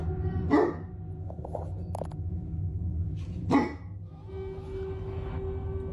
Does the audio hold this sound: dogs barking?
yes